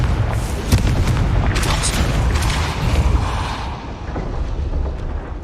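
A Confringo spell blast in the Hogwarts Legacy video game, a loud rumbling boom and crackle that sustains throughout, dense and close with a low roaring body.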